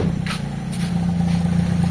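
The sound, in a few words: Toyota Corolla engine running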